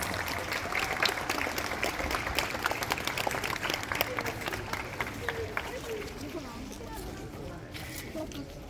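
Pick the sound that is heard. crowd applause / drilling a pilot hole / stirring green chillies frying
crowd applause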